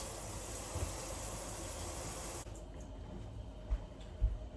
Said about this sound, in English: let me rinse my spoon